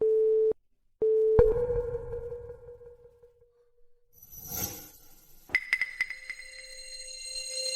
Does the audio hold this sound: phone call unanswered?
yes